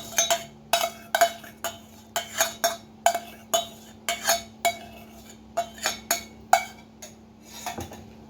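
Spoon or whisk clinking rhythmically against a bowl while water and margarine are stirred for a crispy banana frying batter, about twenty quick close knocks with short pauses, over faint background hum.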